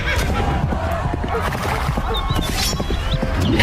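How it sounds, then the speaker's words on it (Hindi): Horses bearing bandits arrive as a story sound effect, with busy hoof clip-clops, a whinny and a mixed rumble of movement heard fairly close and continuous. "तभी वहाँ पर कलुआ डाकू अपने साथियों के साथ घोड़े पर बैठकर आ गया।"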